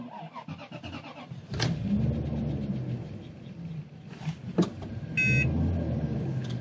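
An older Rolls-Royce or Bentley that hasn't run for a while cranks and fires up close by, settling into a steady idle rumble with a brief whirring sound partway through.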